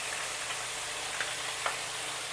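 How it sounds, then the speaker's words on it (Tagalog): Fish frying in a pan for a Filipino home meal, a steady loud sizzle of hot oil with faint crackles and occasional spatters, continuous and close. "ako, piniprito ko muna yung isda"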